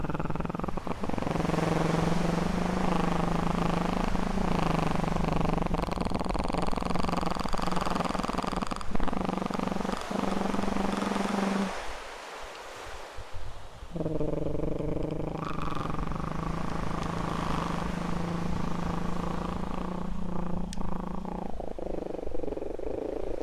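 A voice imitates a cat's purr in close, binaural ASMR style, a steady low rolling buzz that runs for long stretches, breaks off into near silence partway, then resumes.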